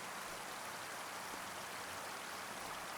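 Steady broadband rush of cascading waterfall water in Farming Simulator 25, a continuous even hiss with no breaks or voices.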